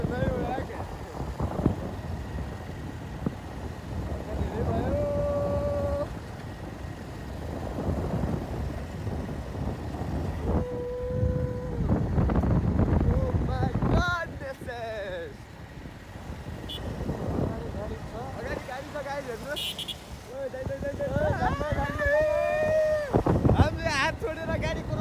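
A motorcycle rides along a road toward an airport, its engine droning beneath heavy wind buffeting the microphone, with passing traffic and loud talking and exclamations from the riders throughout.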